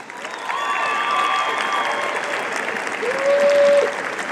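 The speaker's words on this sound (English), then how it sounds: "Students, let's give your family and friends a round of applause." A commencement crowd at South Mountain Community College applauds family and friends, a broad, steady wash of clapping from a large audience, partly overlaid by faint tonal sounds that rise briefly near the end.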